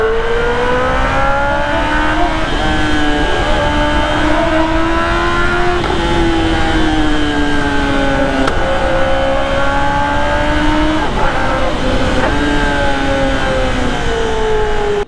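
A superbike engine revs continuously while riding, its loud droning note rising and falling through repeated throttle changes with no pauses, close and steady throughout, with no talking.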